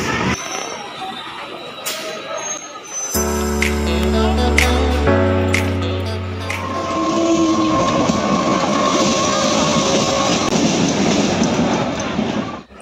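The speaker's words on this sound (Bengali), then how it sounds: "দেখতে দেখতে আমাদের ট্রেনটি স্টেশনে ঢুকে গেছে" A train pulls into a station, loud and close, with a long rising horn blast followed by rumbling and clattering wheels and a steady roar of carriages rolling past.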